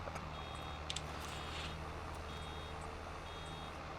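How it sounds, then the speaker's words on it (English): Reversing beeps from a mulcher in Farming Simulator 22, a steady series of thin, evenly spaced electronic pips heard faintly over a constant low machine drone. "It's funny because I hear that beeping."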